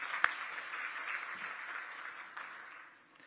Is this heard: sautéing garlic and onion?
no